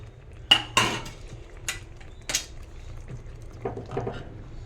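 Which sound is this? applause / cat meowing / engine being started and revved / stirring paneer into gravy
stirring paneer into gravy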